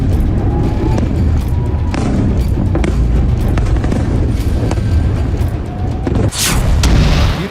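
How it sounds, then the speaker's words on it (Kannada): A rapid barrage of missiles strikes and explodes in the Israel–Iran war, heard as loud, overlapping booms and sharp blasts over a constant roar of heavy noise, with no voices. "ಆ ಥರ ಒಂದರ ಹಿಂದೆ ಒಂದರಂತೆ 20-30 ಕ್ಷಿಪಣಿಗಳು ಇಸ್ರೇಲ್ ಮೇಲೆ ಬಂದು ಬೀಳುತ್ತಿವೆ."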